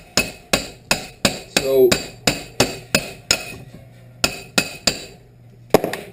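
Lug studs for a hot rod golf cart being hammered in and out: a steady run of sharp metallic hammer strikes, about two per second, with a brief pause and a few final blows, close and loud with little talk.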